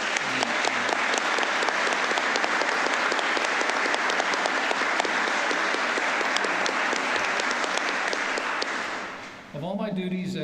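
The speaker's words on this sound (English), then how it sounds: "how about a round of applause for the entire Altice family?" Sustained audience applause fills a formal judicial robing ceremony hall in Indiana, steady and dense for about nine seconds before fading, with a voice briefly beginning to speak at the very end.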